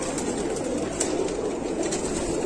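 Pigeons, mostly white ones, cooing together in a steady, continuous murmur with soft overlapping calls and faint occasional wing movement, no one speaking.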